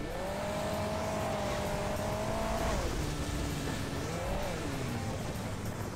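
Boosted car in the mobile racing game Hill Climb Racing 2, a steady high engine whine holding pitch, dropping, then rising briefly again over a constant busy game soundtrack.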